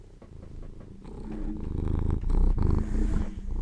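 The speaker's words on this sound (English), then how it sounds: "He's got a very large purr chamber, so you should be able to hear him." A cat purrs close up, a low rumbling throb that swells gradually louder and steadier over a few seconds.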